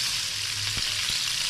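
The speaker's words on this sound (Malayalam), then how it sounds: "അതിലോട്ട് നമ്മുടെ കുക്ക്ഡ് ആയിട്ടുള്ള പാസ്ത ഇടുക" Cooked pasta tossed into a pan of hot ghee sizzles loudly and steadily up close, a dense continuous frying hiss with a couple of soft knocks from the pan.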